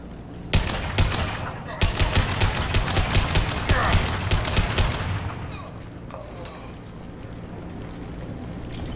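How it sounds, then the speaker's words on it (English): Rapid bursts of automatic gunfire from Blue Suns mercenaries and Vorcha in Mass Effect 2, loud and close for about five seconds, then tapering off into a quieter rumbling background. "The Blue Suns and Vorcha shooting anything that moves."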